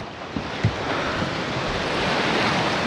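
Ocean waves washing near the shore, a loud continuous surf roar mixed with wind buffeting the microphone, with no voices.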